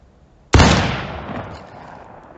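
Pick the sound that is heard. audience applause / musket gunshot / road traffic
musket gunshot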